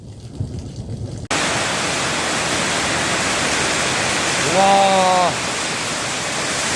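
Hail falls heavily on a pear orchard in May, a dense, loud, continuous rushing patter that starts abruptly and holds steady, with a brief voiced exclamation over it.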